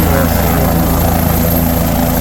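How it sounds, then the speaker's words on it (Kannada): A helicopter at the Kedarnath helipad in the Himalayan mountains gives a loud, close, continuous rotor and engine drone. The rapid blade chop holds steady throughout with no voices. "ಈಗ ಹೆಲಿಕಾಪ್ಟರ್ ಕೊಡ್ತಿರುವಂತಹದ್ದನ್ನು ನೀವು ಗಮನಿಸ್ತಾ ಇದ್ದೀರಿ"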